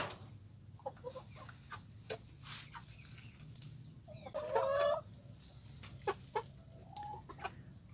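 Hens cluck softly and intermittently, short scattered calls over a quiet farmyard background, with one louder, more drawn-out squawk in the middle.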